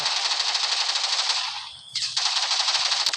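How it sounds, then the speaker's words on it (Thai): Rapid bursts of automatic gunfire in the video game Blood Strike rattle loudly, briefly drop off, then resume in a dense continuous stream. "ผมยิงปืน"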